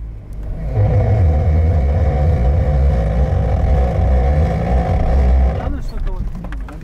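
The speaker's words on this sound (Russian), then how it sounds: "Да это звук блокировки, она так работает." Moskvich 2141 front-wheel-drive car straining with its differential lock engaged, giving a loud steady engine drone with rough crackling texture for about five seconds before it drops off and a voice speaks.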